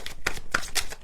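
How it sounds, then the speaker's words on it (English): A deck of playing cards being shuffled in a riffle of four or five quick, crisp bursts of flapping card noise, close and fairly loud, with no voice over it. "one more shuffle and we'll see what comes out"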